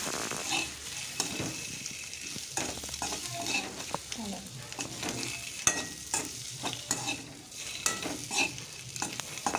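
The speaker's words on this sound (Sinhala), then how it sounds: "දැන් බිත්තර ටික පොඩි වෙන්නේ නැති විදියට මෙන්න මේ විදියට කවලම් කරගන්නවා" Boiled eggs frying in a pan while being gently stirred, with a continuous sizzle broken by repeated scraping and clinking strokes of the spoon, close by and with no talking.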